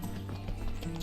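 Horse hooves clip-clop in The Witcher 3, a quick run of rhythmic hoof strikes, fairly soft and close, with no talk over them.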